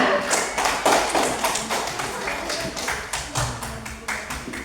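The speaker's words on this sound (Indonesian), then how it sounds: "Iya, tepuk tangan untuk kita semua" Classroom applause from a group of students, rhythmic clapping in a steady beat of distinct claps, close and fairly loud throughout.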